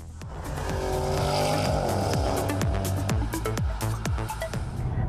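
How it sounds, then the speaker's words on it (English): A powerful Porsche Panamera Turbo S Executive engine roars loudly, revving and shifting through gears with rising and falling pitch, punctuated by sharp mechanical clicks. "Those who like to listen to some engine noise on the way can pump up the volume"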